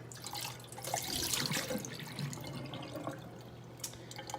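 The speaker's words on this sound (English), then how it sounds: "pour out your water." Water poured out of a candle jar splashes and trickles into a sink, pouring steadily with a brighter gush near the start, then a soft continuous run with a few drips.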